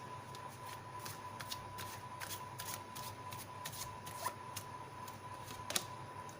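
Tarot cards are shuffled by hand in a quiet room, giving soft repeated riffling flutters and light slaps at an irregular pace, close up, with two sharper snaps near the end and no talking.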